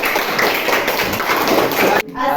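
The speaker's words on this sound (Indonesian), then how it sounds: "Tepuk tangan untuk kelompok 1." A classroom of students applauds a group in a dense, steady wash of clapping from many hands, ending abruptly after about two seconds and followed by a brief quieter moment.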